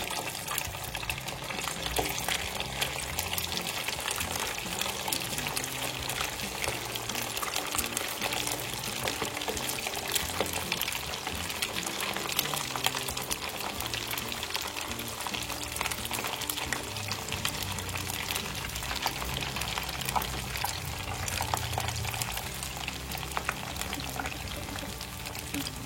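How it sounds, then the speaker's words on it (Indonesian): Goyong fritters are lowered one at a time into hot cooking oil, setting off a dense, steady sizzle and crackle that fills the whole stretch without pause. "karena ini minyaknya sudah panas, kita masukkan goyongnya satu persatu"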